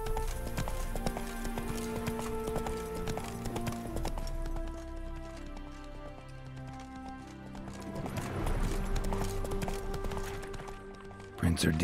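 Roach, Geralt's horse in The Witcher 3, gallops along with rapid rhythmic hoofbeats and a snort, under orchestral game music and a voice speaking, ending in a sudden loud thump.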